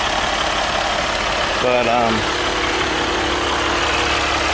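A 2015 RAM 1500 Longhorn pickup with a 3.0-liter turbo diesel EcoDiesel engine idling close by, a steady low rumble with someone briefly speaking over it.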